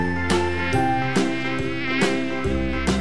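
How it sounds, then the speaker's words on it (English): A mosquito buzzes steadily and close, with a thin, sustained whine and no talk over it. "Mosquito."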